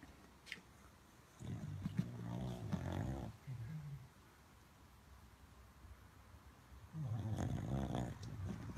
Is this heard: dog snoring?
yes